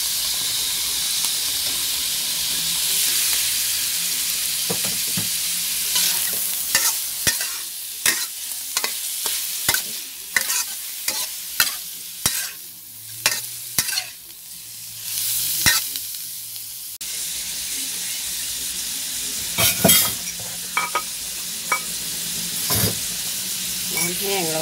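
Minced pork and shrimp are stir-fried in a hot pan for a Thai holy-basil dish, with a steady hissing sizzle broken by repeated sharp scrapes and clacks of the spatula against the pan.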